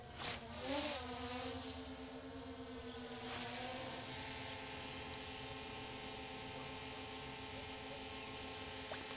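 A DJI Mini 5 Pro drone approaches outdoors, its steady high-pitched motor whine rising slightly and holding loud and continuous for several seconds, with a sustained tonal hum and no talk.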